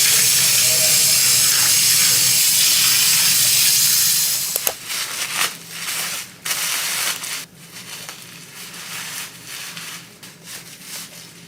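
Running water rinses bleach out of a wig, a loud steady rushing stream for several seconds before breaking into irregular splashes and gurgles as the hair is moved under the flow.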